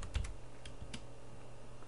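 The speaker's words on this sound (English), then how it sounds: "I believe you just go and you type in MRT" Keys tapped on a computer keyboard at a Windows PC, a few quiet irregular clicks, close and faint, with no talking.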